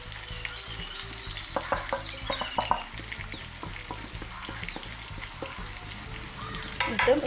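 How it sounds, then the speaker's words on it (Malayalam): Chicken masala fries in a pan as spice powders are stirred in, giving a steady sizzle broken by repeated scraping and clinking stir strokes that build louder near the end. "എന്നിട്ടും ഇതുപോലെ നന്നായിട്ട് തന്നെ ഒന്ന് മിക്സ് ചെയ്തെടുക്കാം."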